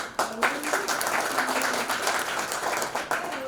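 Meeting audience clapping briefly, a modest patter of hands with a few sharper claps, while a voice carries on faintly underneath.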